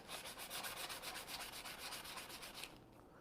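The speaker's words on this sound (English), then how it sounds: "you do another sanding right here" Sandpaper rubs over the corner of stainless steel architectural wrap film in quick, close, rhythmic strokes for a few seconds, then stops abruptly, leaving faint room hiss.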